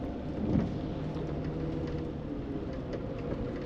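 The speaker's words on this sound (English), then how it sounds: "Rainy Tuesday in Quartzsite." Steady rain falls on a rainy day in Quartzsite, Arizona, a continuous, even hiss with a low rumble underneath and one slightly louder swell near the start, no voices.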